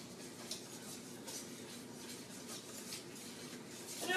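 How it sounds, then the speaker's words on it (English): A whisk stirs paleo rib sauce ingredients in a bowl, making soft, continuous clinking and scraping close by at low volume. "I'm going to go ahead and stir that with a whisk here, get everything all mixed together"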